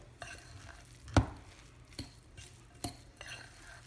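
Cornmeal being worked into a salmon patty mixture, heard as soft scraping and a few sharp utensil knocks against a bowl, close and fairly quiet, with no talk.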